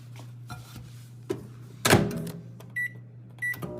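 A Whole Foods cookie in a running microwave oven gives one sharp, crackling zap of sparks over the oven's steady low hum, with a few soft knocks before it and two short electronic beeps afterward.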